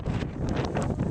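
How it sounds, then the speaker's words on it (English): Strong gusting wind buffets the microphone during Hurricane Sandy in Long Beach, New York, a steady roaring rumble with rushing bursts, loud and close, with no talking. "It's pretty windy"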